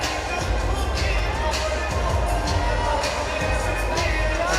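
Crowd at an MFN 12 wrestling event roaring and cheering steadily throughout, a dense wash of voices with bursts of excitement and no clear individual speech.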